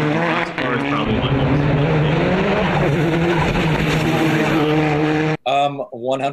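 A race car with a sequential gearbox snarls loudly and close, its engine note shifting as it downshifts, before cutting to a brief quieter moment and a short burst of engine sound at the end.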